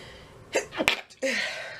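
A single loud sneeze close up, with a short sharp burst after a breathy build-up, then a quick exhale.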